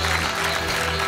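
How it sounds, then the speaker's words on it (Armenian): A live audience claps for a men's team that brought home a bronze medal from the European Championship, dense steady applause filling the room without a break. "շատ բարձր ծափարենք մեր տղաներին"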